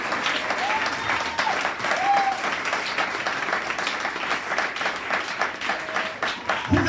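Congregation in a church breaking into sustained applause, a dense steady wash of clapping filling the room, with faint voices and a brief tone or two rising above it.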